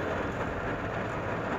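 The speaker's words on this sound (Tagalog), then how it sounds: "Lakas pa rin ang ulan" Steady, dense rain roars without pause, a broad continuous hiss with a low rumble underneath and no voices.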